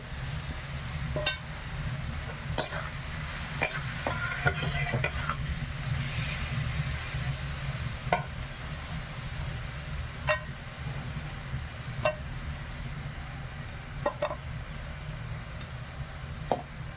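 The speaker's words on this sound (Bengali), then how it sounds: "কড়াই তেল দিয়ে দেবো আগে মাছগুলো ভেজে নেই" Fish frying in oil in a wok in a village kitchen: a continuous, close sizzle with occasional sharp clinks and scrapes of a utensil against the pan, and no talk.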